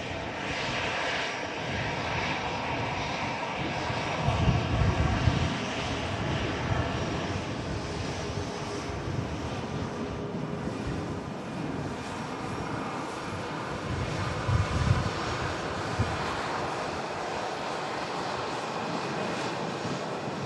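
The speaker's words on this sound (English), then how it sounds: "EasyJet A320 with the Sharklets just taxiing past" An EasyJet Airbus A320 jet airliner with sharklets taxis past at an airport, producing a steady, loud, broadband jet engine roar that swells slightly twice as it goes by.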